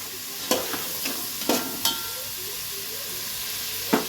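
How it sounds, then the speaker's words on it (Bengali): Whole spices and black pepper frying in a pan for a paneer pulao, a constant bright sizzle broken by several sharp scrapes and knocks of a stirring spoon. "এটাকে একটু নাড়াচাড়া করে নিচ্ছি।"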